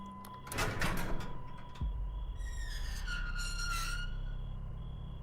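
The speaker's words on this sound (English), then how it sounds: "The thick metal door swung open" A thick metal prison door unlocks with a click and swings open, a low scraping groan followed by a drawn-out metallic creak over steady background noise.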